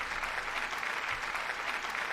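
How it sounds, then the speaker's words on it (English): Steady hand clapping during a podcast recording, a dense even patter of claps held at moderate level for the whole stretch with no talk over it. "Can't believe you clapped today"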